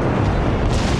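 A heavy boom of warship naval guns firing in World of Warships, a short, full-bodied blast that rolls on for about a second with no voice over it.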